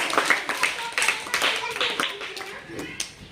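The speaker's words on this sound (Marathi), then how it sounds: "छान दोघांसाठी जोरात टाळ्या पुढची जोडी व्हेरी गुड" Children's clapping at a primary school class activity for a pair of pupils, quick uneven claps mixed with taps, under an adult voice praising them.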